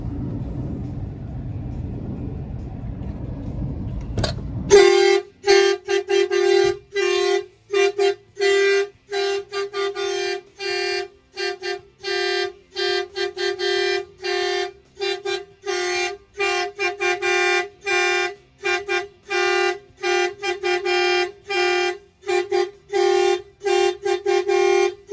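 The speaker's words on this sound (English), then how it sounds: "Somebody opens the door, it's gonna fire off the alarm." A Volvo 780 semi truck's alarm sounds loud and close, a steady run of rapid, evenly pulsed horn-like tones that starts abruptly after a few seconds of low rumble and keeps going without a break.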